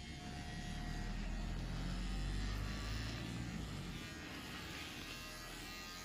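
Electric hair clippers hum steadily through a haircut, a continuous close buzz with a faint rise and fall in level and no voices.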